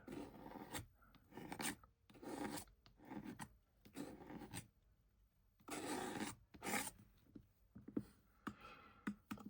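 Homemade embossing paste scraped around inside its container, a series of rough rasping strokes coming in short irregular bursts, close and fairly faint.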